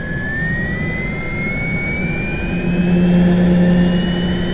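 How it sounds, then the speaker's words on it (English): A synthesized jet turbine engine from a software plugin spools up, a steady whine gliding upward in pitch over low rumbling roar that swells slightly louder near the end, with no talking. "Now use the thrust lever to start up the engine."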